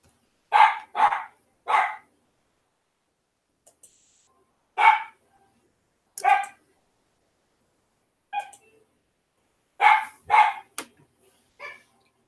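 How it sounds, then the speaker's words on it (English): A dog barks nearby in loud, sharp bursts, about nine barks in short clusters separated by quiet gaps, with no other sound between them. "I'm sorry for the dog barking."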